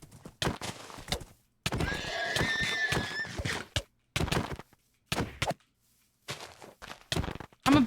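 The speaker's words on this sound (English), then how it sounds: "I want to just get off my horse." A horse in Minecraft whinnies loudly with a shrill, wavering neigh among a rapid series of clip-clopping hoof thuds and sharp hits, with short silent gaps between the bursts.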